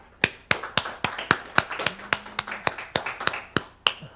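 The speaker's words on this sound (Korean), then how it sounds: "박수로 환영해 주시기 바랍니다" A steady run of sharp, evenly spaced claps, close and crisp, from one or a few people welcoming a Korea University professor at a Korean seminar on post-COVID digital transition and labor; no voices.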